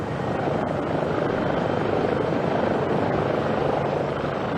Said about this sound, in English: There was no room for Rose on the Life Flight helicopter, so she had to make the 40-mile trip by car.